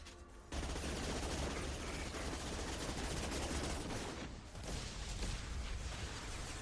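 Sustained gunfire against heavy mechs in the video game Mass Effect 2: a dense, unbroken wall of rattling shots and impacts that starts abruptly and stays loud throughout, dipping only briefly.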